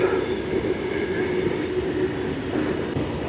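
A train rolls past a closed railway level crossing gate near Kadapa, giving a steady mid-distance rumble of wheels and carriages with faint squeals, and no talking.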